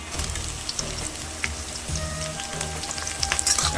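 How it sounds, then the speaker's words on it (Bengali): Capsicum sizzles steadily in a hot pan after a fried spice paste, giving a continuous close crackle with small pops and occasional stirring scrapes, and no voices. "শিমলা মরিচটা একটু ভেজে নেবো"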